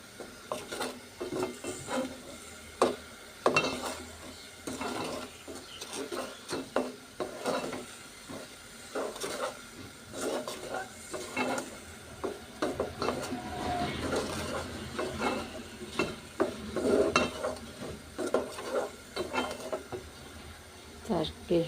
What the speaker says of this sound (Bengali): আমি মসুর ডাল রান্নার আগে একটু ভাজা করে নিই